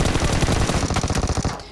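Rapid automatic gunfire sounds during a jump shot in a PUBG duo match, a loud, dense burst of shots that runs for over a second before cutting off.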